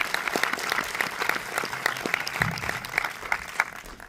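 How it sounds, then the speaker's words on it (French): An audience applauds the two film producers at a screening Q&A, a steady patter of claps that fills the room, fairly close and even, with a faint murmur underneath. "on peut applaudir les 2 productrices qui sont là aussi"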